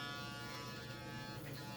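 Steady electric buzz of a toothbrush brushing a small Maltese dog's teeth, close and continuous through the short span with no talk over it.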